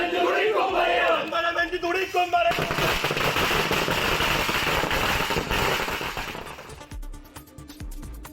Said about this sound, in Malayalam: CPIM പ്രവർത്തകർ പടക്കം പൊട്ടിച്ച് ആഹ്ലാദ പ്രകടനം നടത്തി